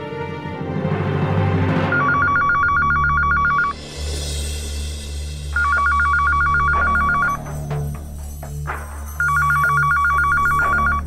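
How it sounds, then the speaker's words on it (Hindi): A phone ringing in a home drama scene, three bursts of bright repeated electronic trills separated by short gaps, loud and close over a steady background music bed with no talk. "अब उसे ही देखता रहेगा या फोन भी उठाएगा?"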